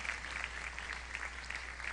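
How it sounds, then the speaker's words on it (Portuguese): Congregation applauding during a Sunday celebration worship service, a steady, even wash of many hands clapping that holds at a moderate, slightly distant level for its whole short length, with no voices over it. "Você pode aplaudir ao Senhor?"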